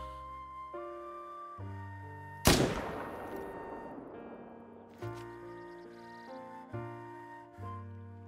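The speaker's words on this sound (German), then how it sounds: "Jetzt versuche ich einfach mal einen 300 Meter Schuss auf den da." A single sharp rifle shot at about 300 metres in the hunting game theHunter: Call of the Wild cracks out over a soft musical background of sustained synth tones, with faint softer thumps afterward.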